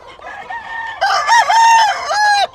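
An old rooster at a gamecock breeding yard crows loud and close, one long harmonic call with a short lead-in, heard alone with no talk.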